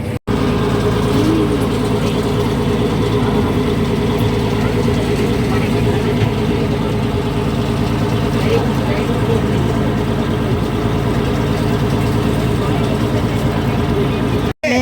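A motorboat engine runs with a steady, loud low drone and constant hum throughout, close by and unbroken, with faint voices underneath.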